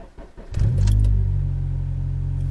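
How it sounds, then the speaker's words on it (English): A car engine fires up after a FlashPro ECU tune upload: a few quick clicks and a brief crank, then a sudden low rumbling catch that settles into a steady, close idle. "Alright, well, car started."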